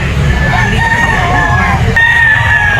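A sweater yellow-legs gamecock rooster crows loudly and close at a busy pet market, one long drawn-out call followed by the start of another over crowd noise.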